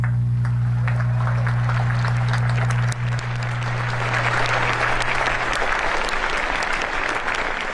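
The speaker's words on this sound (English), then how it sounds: "please join me in giving them a heartfelt round of applause" A large crowd applauds at a Naval Academy graduation ceremony, steady dense clapping that swells louder partway through, layered over a constant low electrical hum from the sound system.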